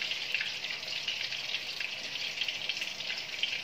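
Angelfish fry in a large pan, a steady bright hiss and crackle of hot oil that stays even and close throughout, with no voices.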